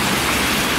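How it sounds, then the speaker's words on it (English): Rain pours down outdoors in a town, a dense, steady hiss that is close and fairly loud, with no voices in this brief moment. "Raining."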